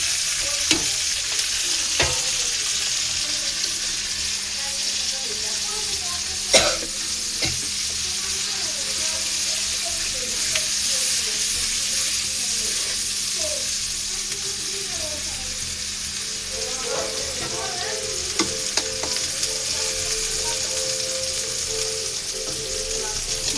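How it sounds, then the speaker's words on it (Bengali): Onion and spices frying and sizzling in a pan, a steady crackling hiss with occasional clinks of a stirring spoon, close and continuous throughout. "পেঁয়াজটা আমার প্রায় লাল লাল হয়ে ভাজা ভাজা হয়ে গেছে। সমস্ত উপকরণগুলো আমি এখন একসাথে দিয়ে দেব।"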